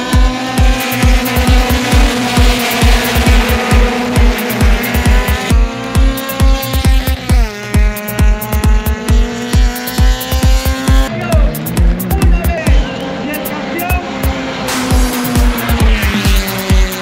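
Touring race car in a championship final crossing the finish line on three tires, a loud, close engine roar with rapid rhythmic pulsing and shifting pitch, plus scraping and squeal, continuous throughout with no talk.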